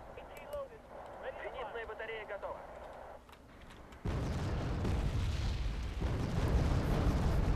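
Artillery shells slam in and wreck a Mi-8 helicopter in the Wargame AirLand Battle video game, a sudden heavy blast after a quieter stretch, then a sustained loud rumbling roar, with a voice talking under it.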